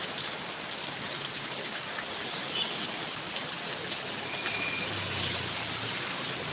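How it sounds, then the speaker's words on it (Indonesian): Steady night rain, not yet heavy, falls around a shop's front eaves in a continuous dense hiss with soft patter, holding an even level throughout with no voices. "Baru kalau hujan begini nih, hujan-hujan malam ini."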